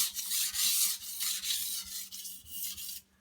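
A blade is worked across a coarse sharpening stone with light, even pressure, giving a run of close, soft scraping strokes that swell and fade in a steady rhythm, with no talking.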